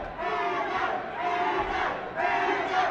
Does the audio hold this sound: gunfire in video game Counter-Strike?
no